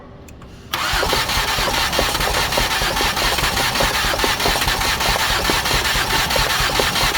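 A 2008 Ford Escape engine cranking over during a compression test, the starter churning steadily and loudly after a brief quiet moment, with a fast rhythmic whir running unbroken to the end.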